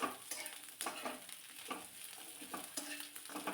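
Carrots and other vegetables sauteed over a low gas flame, with steady quiet sizzling and repeated scraping stirs of a spatula in the pan, close and fairly soft, no talking.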